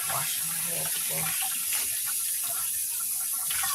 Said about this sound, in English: I'm going to double wash my hands again.